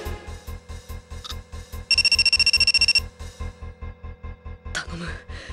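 A mobile phone rings out on a call in a Detective Conan video game, a steady pulsing electronic ring tone repeating in a quick regular rhythm, joined by a brighter burst of beeps midway.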